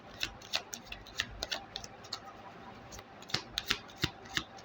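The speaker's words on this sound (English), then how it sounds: "This is the last shuffle I do with the Lenormand." Lenormand cards being shuffled close up, a run of crisp irregular riffling clicks and slaps in short bursts with brief pauses, fairly quiet and with no talking.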